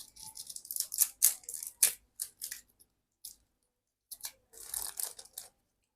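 An Oppo A58 phone screen is pried open with a thin plastic tool, giving close, dry scraping and crackling bursts in uneven clusters with short silent gaps, no voices.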